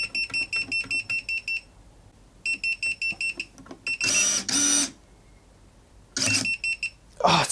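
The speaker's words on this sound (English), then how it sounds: "It won't let me pull the trigger if it's beeping like that." A finger-detecting pruner sounds its safety warning as rapid bursts of loud, high electronic beeps in steady pulses. Short gaps break the pattern, and brief bursts of broadband noise come in between.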